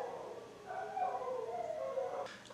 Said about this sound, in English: Please excuse my dogs. I really don't know why they have to be interrupting the video like this